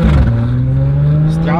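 An Audi A7 with a straight-pipe exhaust revving up close, a loud deep engine drone rising sharply in pitch and holding at a high, steady roar.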